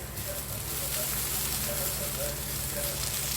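Steady sizzling and crackling of onion and coconut frying in a hot pan, a dense continuous hiss with occasional faint pops, no voices.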